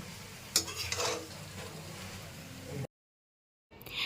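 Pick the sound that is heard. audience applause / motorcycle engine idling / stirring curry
stirring curry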